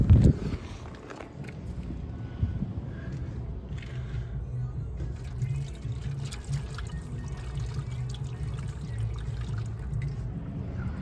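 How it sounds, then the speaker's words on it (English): Water from a gallon jug is poured down the cleanout of a condensate drain line, a low steady gurgling trickle that runs the whole time, fairly faint and close. "we'll pour the rest of our gallon down the clean out here"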